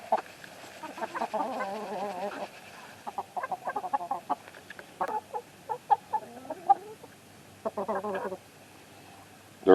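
Chickens and roosters near a pole barn cluck in short, scattered bursts and murmurs, fairly close and moderately loud, with quiet gaps between the calls.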